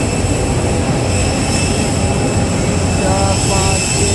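A steady loud roar of an airplane engine at an airport, constant and close, with faint voices beneath it.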